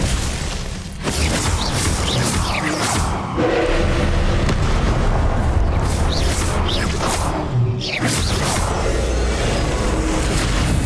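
Glacius ice spell cast during a Hogwarts Legacy trials boss fight, loud booming whooshes and crackling impacts that layer into a continuous roar of combat effects.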